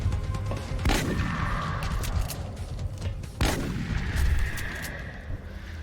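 Two sharp, loud gunshot cracks about two and a half seconds apart in the XCOM strategy game, each followed by a ringing, echoing decay over a low rumbling background with no talk.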